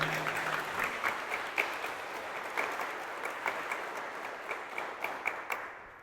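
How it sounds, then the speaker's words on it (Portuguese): An audience at a church sermon applauds, steady dense clapping that holds at full strength and then thins out toward the end. "Dá uma salva de palmas para Jesus"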